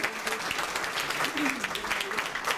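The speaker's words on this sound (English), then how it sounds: "give PJ a round of applause" A crowd applauds at a chamber of commerce annual meeting, a steady wash of clapping at moderate level with voices talking over it.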